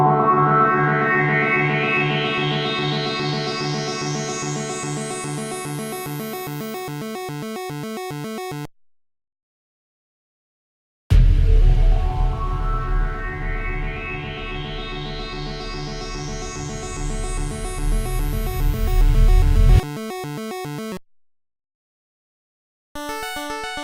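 A chiptune intro plays bright rising square-wave arpeggios with effects and Vengeance drop samples, cutting to silence twice. A heavy deep sample layer lands in the second section and builds before the break.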